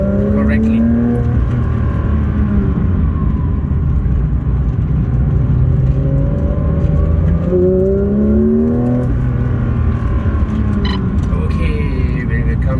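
A Porsche car drives on a race track, its engine droning and shifting pitch as it accelerates and eases off, steady and fairly close, while a person talks over it.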